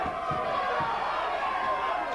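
Wrestling arena crowd at a championship match, a dense steady roar of cheering and shouting that holds at full volume throughout with no break.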